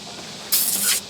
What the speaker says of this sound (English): I am most likely going to spray it and start agitating immediately.